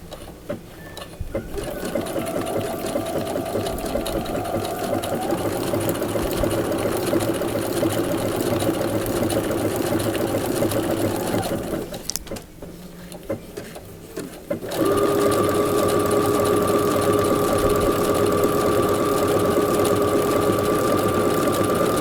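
Sewing machine stitching a fabric cover for a Niquinha NQ1300 machine, a close, continuous fast whirring hum that runs steadily, pauses briefly, then resumes slightly louder with a higher steady whine.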